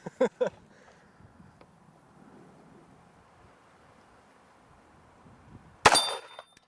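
A WWII Japanese handgun fires at a steel plate target: a couple of sharp, close bangs right at the start, a long quiet stretch, then a louder crack with a ringing tail near the end.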